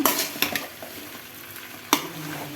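Dry red chillies and curry leaves frying in a pan, a soft steady sizzle punctuated by a few sharp spoon clanks and scrapes against the metal, close up, without speech.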